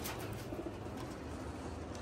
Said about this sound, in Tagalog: so ito yung mga ibon